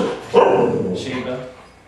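A dog barks at a UPS delivery person, a burst of loud, close barking that settles into lower growly vocal sound over about two seconds, with speech-like tones mixed in.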